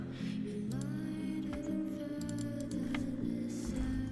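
Someone types on a computer keyboard, producing a quiet run of light, irregular key clicks against a faint background hum.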